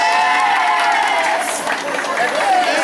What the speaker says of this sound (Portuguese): Palmas para as mulheres.